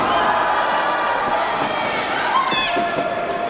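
Wrestling crowd at an independent pro wrestling show cheering steadily through a match, a loud dense roar with shouts rising above it and occasional impacts near the end.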